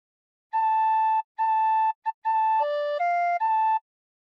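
A tin whistle plays a short phrase of the sea shanty What Shall We Do With the Drunken Sailor, clean piping notes repeated in an even rhythm and then stepping down, close and clear with nothing else heard.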